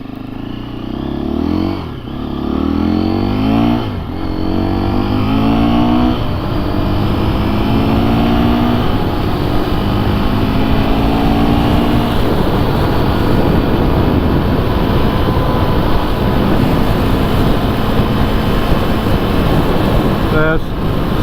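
A 2024 KTM 350 EXC-F dirt bike engine drones loudly and steadily at half throttle on stock gearing, held at a constant cruising pitch for the whole stretch, with wind rush and a few brief shifts in tone near the start.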